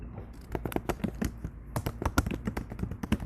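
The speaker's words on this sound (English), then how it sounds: "You could hear me typing my response to a question." Close, quick typing on a computer keyboard during an online meeting, a busy patter of uneven key taps with brief pauses, no voices.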